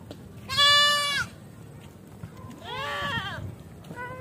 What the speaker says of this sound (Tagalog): Tapos dito ang daming mga kambing.